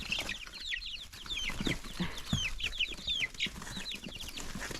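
Chickens clucking and chirping steadily at close range, with repeated short calls overlapping throughout and some background rustling.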